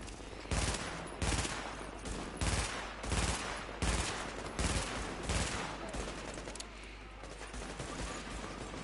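Rapid bursts of small-gun fire in a co-op shooter video game set in Manhattan, about a dozen loud sharp shots in an uneven rhythm with a short pause partway through, then quieter background sound.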